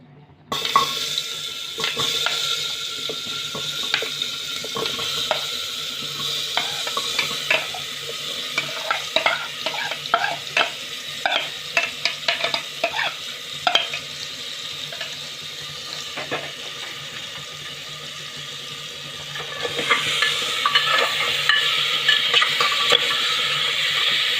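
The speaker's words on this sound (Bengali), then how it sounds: "এবার আমি আলুগুলো কুকারে ঢেলে দেবো" Small raw potatoes coated in spices tipped into a pressure cooker, a quick clatter and then a bright sizzle with a burst of stirring scrapes in the middle, easing to a steady fry that swells again near the end.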